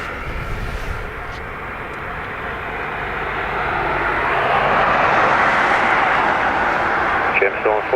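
A Ryanair airliner at Dublin Airport, bound for Naples, with a jet engine roar that swells gradually from a distant rumble to a loud, broad rush; a voice talks over it.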